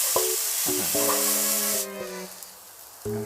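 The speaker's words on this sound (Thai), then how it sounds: "ตอนนี้ผมขออนุญาตผัดก่อน" Instant noodles with holy basil stir-fried in a pan, a steady close sizzle with rhythmic clanks of a utensil against the pan, and a hiss that drops away partway through.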